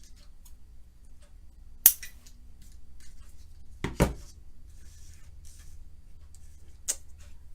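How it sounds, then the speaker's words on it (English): Scissors snip a small decorative sprig for an Easter card craft, giving three sharp, isolated clicks spaced a couple of seconds apart in an otherwise quiet room. "And then I cut this little sprig in half and I shortened it."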